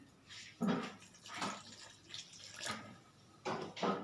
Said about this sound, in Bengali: এবার আমি এটাতে একটু গরম জল দিয়ে দিচ্ছি